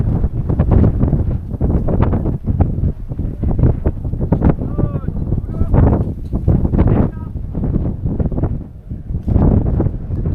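Strong wind on a snowy mountain summit at Cerler ski station in Spain, buffeting the microphone in loud, gusty roaring bursts, with faint honk-like tones briefly audible midway.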